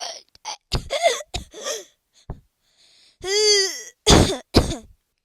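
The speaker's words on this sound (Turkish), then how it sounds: "Pardon öksürdüm." A person coughs and clears their throat in several short bursts, with a drawn-out vocal groan in between, close to the microphone.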